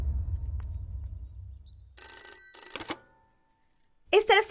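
A telephone rings in a dubbed Hindi action film, heard as a brief electronic ring burst in the middle of the scene, with a low rumble before it and a voice speaking right after.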